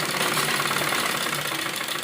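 A sewing machine runs continuously and loudly, double stitching a net baby frock for a six-to-seven-year-old, a dense steady mechanical whir filling the whole short stretch with no talk.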